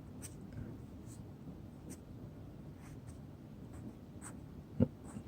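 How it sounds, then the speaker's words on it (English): Pen writing strokes of a Chinese character on paper, a string of soft scratchy strokes and light taps at an irregular pace, close and quiet, ending with one sharper tap. "we write outside first"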